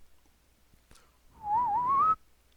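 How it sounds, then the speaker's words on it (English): A single person whistles one sustained, wavering tone lasting under a second, clear and fairly close after a quiet moment and a faint click, with no talking over it. "that was a whistle."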